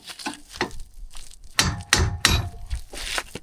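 A big chisel is hammered into a seized, rusty trailer wheel bearing on a commercial fishing boat trailer, giving several sharp metallic strikes and cracks close up, with clatter between the blows.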